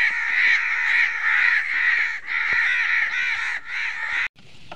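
A large flock of crows caws loudly and continuously over a rice field at harvest time, many harsh overlapping calls close by and no voices heard.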